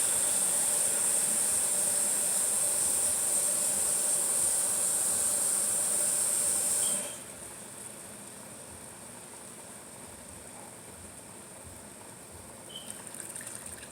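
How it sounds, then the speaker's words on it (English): Water pours steadily into a cooking pot of seafood curry with crab legs, lobster claws and shrimp, a loud continuous hissing rush for about seven seconds, then it stops and only a soft, quieter background remains. "I'm going to add some water"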